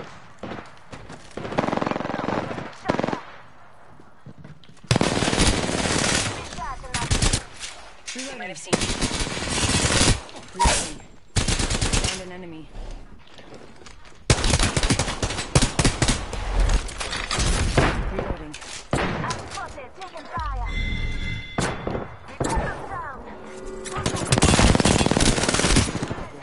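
Dense automatic gunfire from an Apex Legends firefight comes in long loud bursts and rapid volleys, with brief pauses and scattered single shots between them, filling nearly the whole stretch.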